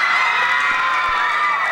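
Girls scream and cheer loudly at a high school Rose Festival assembly, a dense continuous crowd roar of shrill voices filling a large room.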